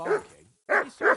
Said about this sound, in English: You can hear that damn dog of yours barking.